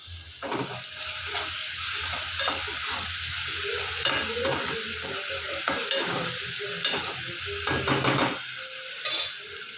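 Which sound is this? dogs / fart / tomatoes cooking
tomatoes cooking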